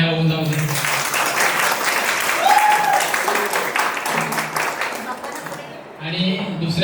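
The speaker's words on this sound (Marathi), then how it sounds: "पहिले मावशी आणि काकांसाठी जोरदार टाळ्या होऊन जाऊ दे।" Crowd applause at a 60th birthday celebration for Sushma, a steady wash of clapping lasting several seconds, with voices and speech mixed through it and a brief tonal sound partway in.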